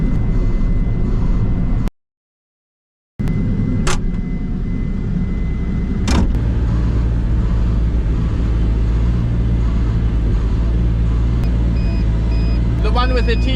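A CAT 305 mini excavator drives down toward a tent pad in Tasmania with a loud, steady diesel rumble throughout, broken by a brief dropout, clanks and a few high beeps near the end.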